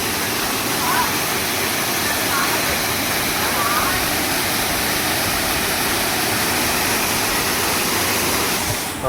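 Loud, constant roar of Kuruvakkayam Waterfall in Thodupuzha, a dense rushing wash of falling water filling the whole scene without pause.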